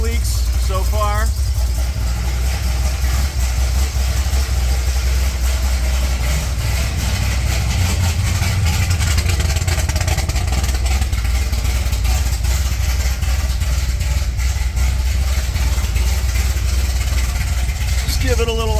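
A Chevrolet Corvette C6 Z06 V8 idles smoothly and continuously at close range, a deep, even rumble with no ticking, while someone talks over it.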